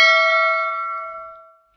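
A single bright notification bell chime rings out clearly and then decays smoothly over nearly two seconds, heard alone with no voices.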